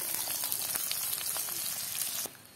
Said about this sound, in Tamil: பெரிய வெங்காயம் 2 வெங்காயத்தை வெட்டி வதக்குவோமா